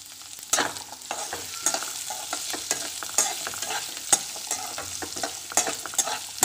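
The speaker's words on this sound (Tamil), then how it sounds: "அடுத்து வெங்காயம் இத வதக்கி பேஸ்ட் அரைச்சு வச்சுக்கலாம்" Sliced onions sautéing and being stirred in a hot pan while making garlic pickle, with a bright continuous sizzle and repeated scraping clicks of the spoon, close up, no voices.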